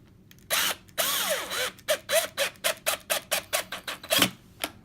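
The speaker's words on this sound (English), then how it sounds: "I usually normally wouldn't use a drill, but I'll be careful" A power drill whirs in short bursts while disassembling an AK-47 rifle, a longer run followed by rapid repeated pulses, close and fairly loud without speech.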